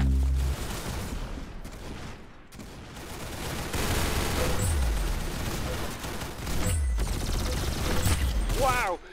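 Gunfire in the video game Arsenal, with several dense bursts and single shots over a steady game soundscape, loud and close throughout.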